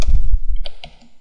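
Fingers type on a computer keyboard, a quick burst of close, sharp key clicks and thumps, with a couple of isolated taps trailing off at the end.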